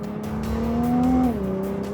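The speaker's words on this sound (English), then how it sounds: "going through corners on a racetrack as we're doing right now" A sports car corners hard on a racetrack, its engine a loud, sustained drone that climbs in pitch, then drops as it eases off, with faint tire noise alongside.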